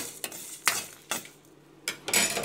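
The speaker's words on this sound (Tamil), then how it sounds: "இந்த வரமிளகா கொஞ்சம் நல்லா வதங்கணும்." Dried red chillies are stirred and fried in oil in a pan: several short scraping stir strokes over a faint, steady sizzle, close and fairly quiet.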